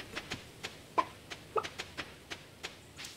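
Chicken clucking in the farming video game Stardew Valley, a run of short soft clucks at a quick uneven rhythm with two sharper peeps standing out, faint and alone without talk.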